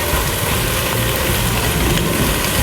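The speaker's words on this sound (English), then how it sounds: "So when we add this and let it saute a little bit" Mushrooms and pechay sauteing in a pan, a steady dense sizzle and crackle throughout, close and constant with no talking.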